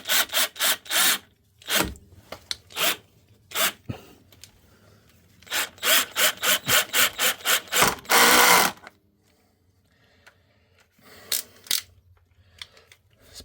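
A screw is driven into wood for a workbench in short bursts of grinding, ratcheting turns, with a longer burst near the middle and a few sparse final turns after a quiet pause.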